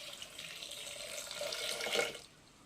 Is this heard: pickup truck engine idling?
no